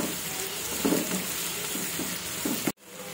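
Onions sizzle steadily in a hot pan for paneer bhurji, with a few soft stirring scrapes, before the sound cuts off abruptly near the end.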